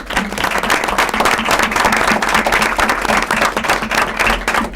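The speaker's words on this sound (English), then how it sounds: "a round of applause for Matt and Mike" Audience at a school committee meeting claps for two honorees, a loud, dense round of applause right up close that holds steady throughout.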